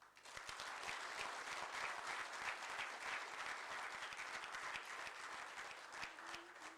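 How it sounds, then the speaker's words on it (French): An assembly audience applauds during a presidential address, a sustained, even roar of many clapping hands that stays fairly quiet in level but unbroken throughout, with no speech over it. "Je souhaite qu'on les applaudisse."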